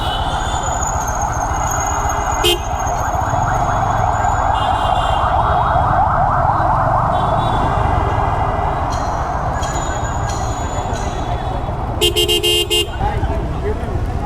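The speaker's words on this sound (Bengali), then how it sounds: "ওই যে ওই সাইড দিয়ে পুরোটা অ্যাম্বুলেন্স আসতেছে" An ambulance siren sounds amid a dense, noisy street crowd after a plane crash near a college campus in Uttara, Dhaka, rising through constant loud hubbub and traffic with horn-like toots, steady throughout.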